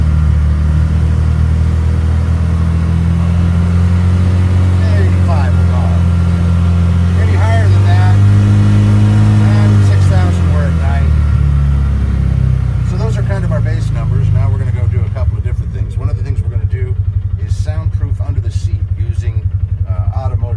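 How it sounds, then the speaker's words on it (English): A Polaris Ranger 570 utility vehicle engine revs up hard toward 5000 rpm, a loud sustained drone that climbs in pitch, holds, then roughens, with voices talking over it in the later part. "Crank it up to 5000."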